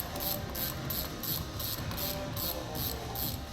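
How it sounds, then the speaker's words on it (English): Ratchet and 14mm socket spin a crank bolt out of a Life Fitness 95CS exercise bike, a steady rapid clicking of the pawl repeating evenly at close range. "I'm going to use a 14mm socket, which is a good fit, and a ratchet"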